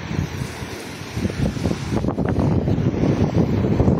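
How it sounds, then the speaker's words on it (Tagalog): Strong typhoon wind buffets the microphone at sea while big waves crash and surge nearby, a continuous loud roar with rushing bursts of surf and no voices. "Malaki ng mga alon, no? Ang lakas ng hangin."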